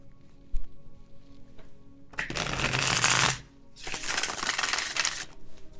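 A deck of tarot cards is shuffled in two quick riffling bursts, each a loud, crisp flutter lasting about a second, with a quiet pause and a soft knock before them.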